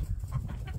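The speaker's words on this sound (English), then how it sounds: "Oh, this rooster. You're being naughty, rooster." A homestead rooster crows and clucks loudly and close by in one short, rough burst, with no talk over it.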